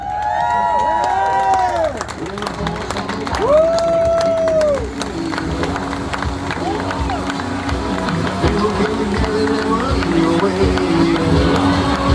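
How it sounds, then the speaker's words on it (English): A crowd at a bass fishing tournament weigh-in on Lake Guntersville cheers and whoops under an announcer's amplified voice, with scattered clapping. The noise stays steady and lively throughout. "And the crowd goes crazy once again!"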